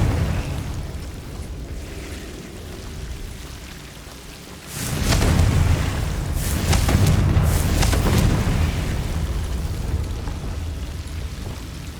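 Confringo blasting spell from Hogwarts Legacy, fired during a fight with goblins: a loud booming blast breaks in about halfway through, followed by sustained rumbling, crackling debris and a few further bursts.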